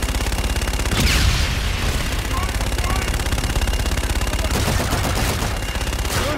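Continuous rapid gunfire and bursts from Call of Duty Infinite Warfare on Xbox One rattle loudly in a dense stream, with a sharp blast about a second in and faint voices underneath.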